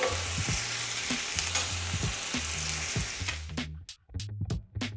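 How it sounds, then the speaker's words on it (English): Catfish fillets frying in butter in a skillet over medium-high heat, a steady close sizzle and crackle with spatula scrapes and clicks, fading toward the end. "just gonna let the catfish cook in batches since I have a few fillets here"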